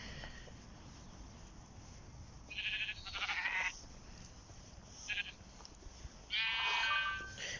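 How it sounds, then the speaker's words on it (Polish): A white sheep in Minecraft Earth bleats several times in short, bright digital calls spread across a few seconds over a low, steady game background with no talk. "Biała owca, serio."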